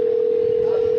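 A telephone dial tone hums as a call is placed, one steady, unbroken pitch held loud and close for the whole second, with no talk.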